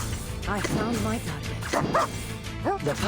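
A puppy in the game Reverse: 1999 gives several short, high yips and barks spread across a few seconds.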